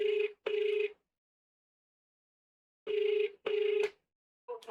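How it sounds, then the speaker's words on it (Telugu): Outgoing phone call ringback tone, two pairs of short electronic double rings separated by a long silent gap, clear and alone, with the start of a third ring at the end. "వాళ్ళకి మనం కాల్ చేస్తున్నాం"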